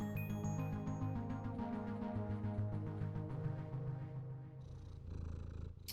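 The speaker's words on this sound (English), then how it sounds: "You get to pet the cat, so that's all that matters." A cat purrs steadily while being petted in a video game, the soft rumble sitting under music that carries most of the clip before a brief shift near the end.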